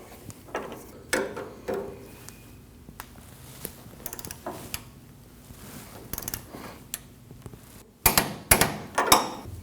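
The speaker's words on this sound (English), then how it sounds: "And tighten it down. Then you want to torque those at 39 foot-pounds." Strut bolts on a 2012–2021 Nissan NV2500 front strut and spring assembly being tightened with a torque wrench, giving scattered metallic clicks, ratcheting and clanks, close by, growing louder and busier near the end.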